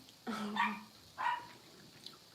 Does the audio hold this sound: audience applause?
no